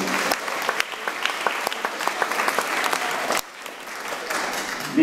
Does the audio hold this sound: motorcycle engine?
no